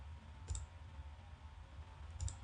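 Two soft computer mouse clicks about two seconds apart, faint and close, over a quiet low hum with no talking.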